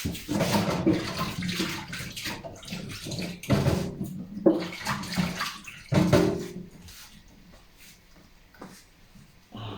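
Tap water running in a kitchen while dishes are washed up during soup cooking, splashing in irregular bursts of rushing flow with pauses, close and fairly loud.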